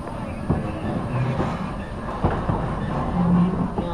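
A vehicle creeps slowly over an old, worn-out bridge, steady rumbling rolling noise with intermittent knocks and rattles from the planks, heard from inside at close range.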